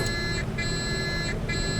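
A cockpit warning in a Cessna 404 Titan flight simulator beeps in a repeating on-off pattern, a steady electronic tone that cuts out briefly twice, sounding for gear not lowered while flaps are extended, over low engine hum.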